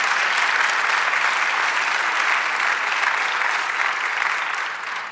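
A church congregation applauding, dense and loud clapping from many hands that carries evenly throughout and tapers slightly at the very end.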